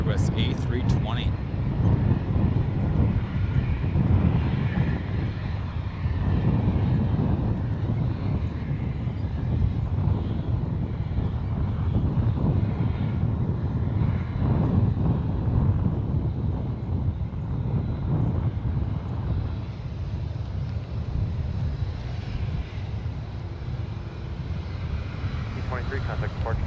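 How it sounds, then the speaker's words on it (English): A United Airbus A320 jet departs San Francisco International Airport, a sustained roaring engine rumble heard from a distance and holding steady throughout, with people talking over it. "Departing now is United 1823 headed off to Denver and is Airbus A320."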